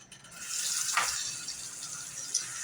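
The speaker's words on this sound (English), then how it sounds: "I'm going to add some cold water to this roux" Cold water poured into a roux for chicken and sausage gumbo, a close, steady gushing splash that swells early and then runs on evenly before tapering.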